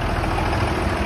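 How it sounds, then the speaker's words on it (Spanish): A tractor engine runs at a steady idle nearby, producing a constant low rumble with a continuous mechanical drone and no changes in pace. "está lindo de pinta el tractor, se siente marchar bien"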